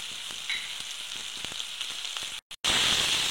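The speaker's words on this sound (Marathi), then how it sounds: "व्यवस्थित भाजायचा टोमॅटो।" Tomato frying in a pan for a restaurant-style mixed vegetable curry, a close steady sizzle with light stirring, briefly cut off and then returning louder and brighter.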